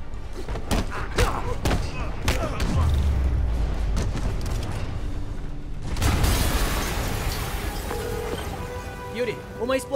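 Heavy booming blasts and thuds crash amid game sound effects and mechanical clatter, with a sharp burst partway through and voices talking, from a Spider-Man video game scene with traps set around the place.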